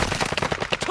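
Rapid gunfire in Call of Duty: Modern Warfare II, a close, loud burst of quick repeated shots in an even rhythm throughout.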